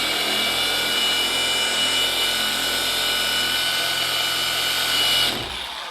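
Car paint polisher running at low speed while correcting the paint on an E90 BMW M3, a steady whirring motor hum held close and loud, then cutting off at the end.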